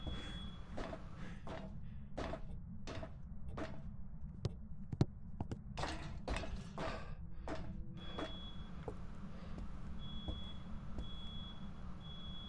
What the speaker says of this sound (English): The fire alarm in my building occasionally goes off